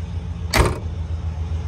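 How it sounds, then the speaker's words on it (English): Door of a 1956 Pontiac Chieftain closing with a single short, solid thunk against a quiet background hum. "Door shut nice"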